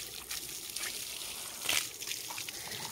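Water from a roadside spout pours steadily and strongly, making a continuous hissing gush with a brief louder surge near the middle.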